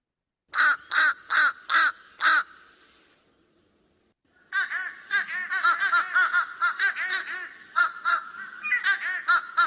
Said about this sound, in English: So here's fish crow.